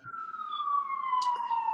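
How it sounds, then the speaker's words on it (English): A siren wails in a downtown street, one long steady tone slowly falling in pitch, clear and fairly close with no talking over it. "I live in downtown, so you may hear some sirens"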